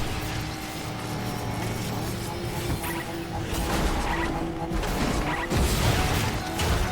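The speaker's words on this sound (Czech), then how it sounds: "Musím zničit Deloran, kdyby ho někdo chtěl." DeLorean car being smashed apart in the video game Fortnite: a steady dense din of crunching, scraping impacts and mechanical rattle, growing louder in the second half with heavier crash bursts.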